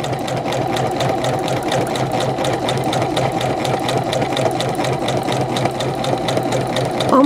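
Sewing machine stitching forward, reversing for a backstitch and then going forward again on a women's button-down shirt. The steady, loud mechanical whir and rapid needle clatter run continuously without a break, with no talking.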